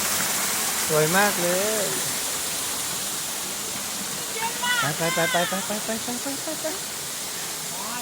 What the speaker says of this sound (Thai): ตอนนี้เราอยู่น้ำตกเอราวัณชั้น5สวยมากเลย